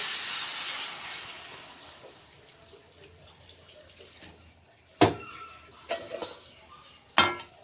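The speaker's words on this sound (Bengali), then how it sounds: "এখানে আমি উষ্ণ গরম জল দিয়ে দিচ্ছি।" Warm water pours into a pan of bottle gourd greens, potatoes and beans: a soft splashing gush fades away at the start, then sharp metallic clinks and knocks of utensils follow in the quiet.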